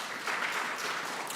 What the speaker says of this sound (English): Y'all keep clapping, us politicians just keep talking.